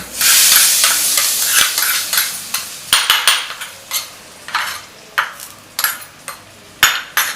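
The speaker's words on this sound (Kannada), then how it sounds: "ಈಗ ಒಗ್ಗರಣೆಗೆ ಹಾಕ್ಬಿಡ್ತೀನಿ" Tempering for foxtail millet khichdi crackles and sizzles in a pan, a loud hiss that breaks into irregular pops and spoon clinks against the metal.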